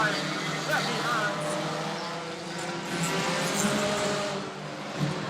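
Stock car engines fire up and rumble together at a race meeting, forming a dense, loud mechanical roar that holds steady throughout, with a voice talking over it.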